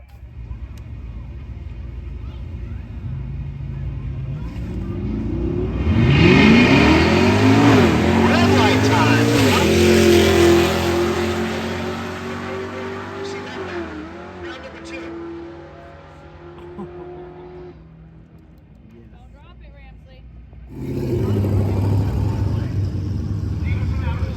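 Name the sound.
drag race car launching and racing, round 1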